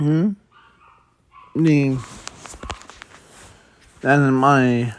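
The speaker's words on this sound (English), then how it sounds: "sorry for if you hear barking in the background" A dog barks in short bursts in the background, with a person talking briefly between the barks.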